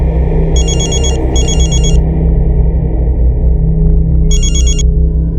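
A telephone rings in three short electronic bursts, two back to back and one after a pause, over a steady low rumble.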